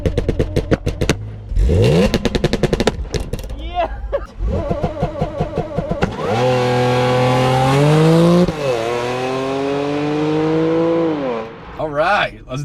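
A supercharged Audi launches from 1,800 RPM; its loud engine note climbs steadily, holds high, then drops away, after brief talk and clatter at the start.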